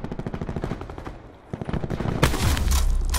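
Rapid automatic gunfire in Black Ops 4, loud bursts of machine-gun fire crackling continuously, with a brief lull before heavier shooting resumes.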